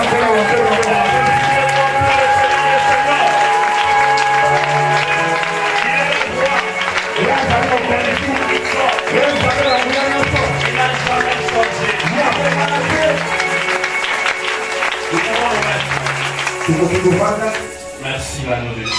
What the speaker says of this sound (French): On applaudit très fort pour Jésus.